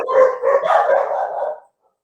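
A dog barks and howls in a loud, drawn-out burst lasting under two seconds, close by and on its own, then stops.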